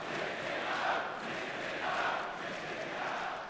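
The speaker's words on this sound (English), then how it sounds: "I think the crowd's saying they want a scoreline" An esports arena crowd at an IEM Sydney 2018 CS:GO semifinal between Astralis and mousesports chants in a steady, rhythmic roar that swells and dips, heard from a distance and without clear speech.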